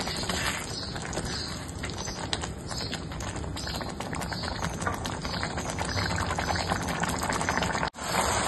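Boiled water pours steadily into a pan of spiced peas, a continuous bubbling, splashing rush of liquid that holds at an even level for several seconds and then cuts off abruptly near the end.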